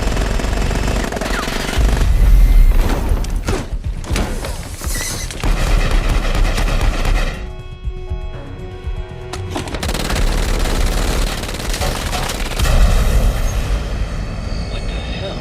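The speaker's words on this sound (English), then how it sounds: "I'm seeing what looks like gunfire in the passenger cabin." Automatic gunfire in an aircraft passenger cabin during an Army of Two game cutscene, loud bursts of rapid shots mixed with heavy rumbling and clatter, with a brief quieter gap midway before the firing resumes.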